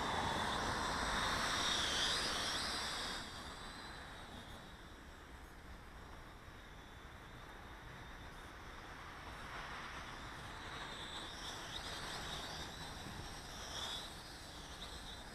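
A Sky Viper V950HD video drone at full throttle gives off a steady, high-pitched motor whine mixed with wind rush, louder at first and then holding at a fainter, even level.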